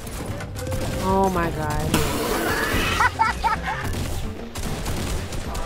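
Gunfire in a Fortnite rip-off video game: a rapid burst of shots rattles out midway, mixed with game effects and heard under excited, close talking.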